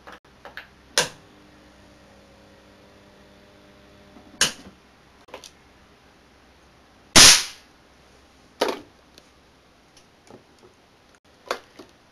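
A charged defibrillator capacitor discharging into small components such as LEDs, heard as a few sharp cracks and snaps at irregular intervals. One bang is much louder than the rest, and the room is otherwise quiet.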